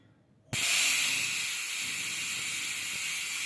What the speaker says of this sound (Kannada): ಇವಾಗ ನಾವು ಕುಕ್ಕರ್ ಲಿಡ್ ಕ್ಲೋಸ್ ಮಾಡ್ಕೊಳ್ಳೋಣ.